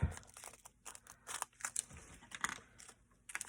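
Scissors cutting open a fused plastic packet of Halloween embellishments, heard as close, quiet crinkling and snipping in short irregular bursts.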